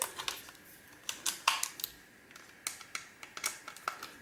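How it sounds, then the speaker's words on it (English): Screws being removed from a Nintendo Wii console: a run of short, sharp clicks and ticks, some in quick clusters, others spaced apart, close and fairly crisp with quiet gaps between. "A lot of screws, so it's quite time consuming removing these screws."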